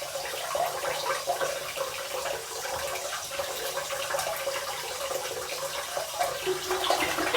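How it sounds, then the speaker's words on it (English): Hot tap water running into a sink to warm a razor, a steady splashing stream with bright hissing spray, continuous and close throughout. "run under some hot water, swirl in the sink, the water in the sink to bring it to temperature"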